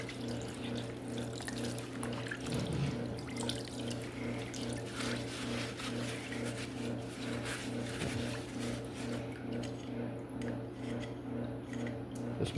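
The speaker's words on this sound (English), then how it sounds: "I'm just going to take this clean and I'm going to rinse as much of the dirty off of this as I can" A Ford 2.3 turbo engine block being rinsed off with water, a long continuous spray and pour with a steady hum running beneath it and no speech.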